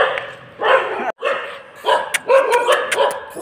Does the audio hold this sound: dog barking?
yes